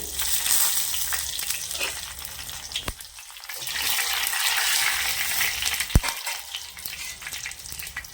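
Dried red chillies fry in hot oil in a pan, making a steady crackling, hissing sizzle. A couple of sharp pops or clinks break through, close by, with no voices.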